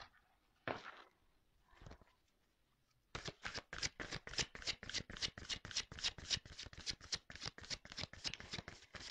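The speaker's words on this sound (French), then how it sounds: "On va prendre d'autres cartes." Tarot cards are drawn and then riffled in a rapid, steady run of crisp card flicks, close and fairly loud, following a few separate card sounds and brief pauses.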